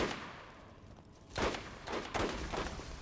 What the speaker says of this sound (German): zwei Schüsse auf die fliegenden Viecher reichen aber aus.